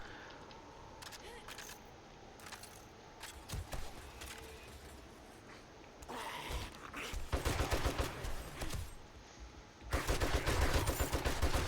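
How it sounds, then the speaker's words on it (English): Heavy gunfire from a shotgun loaded with armor-piercing slugs during a horde night in 7 Days to Die, sounding as dense, loud bursts of repeated blasts that grow stronger and more sustained toward the end, with no talking. "I loaded the shotgun with armor-piercing slugs."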